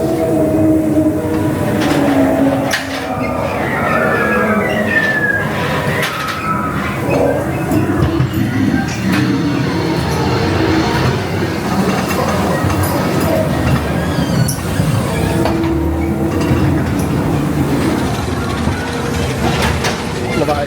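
A ghost train ride at Blackpool Pleasure Beach rumbling and clattering along rails with occasional wheel squeals, loud and continuous, with people talking at times over the noise.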